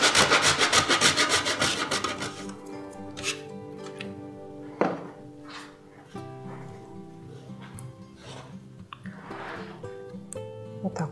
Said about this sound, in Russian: Прополис должен быть замороженный. Тогда будет легко натираться на терке и не будет прилипать.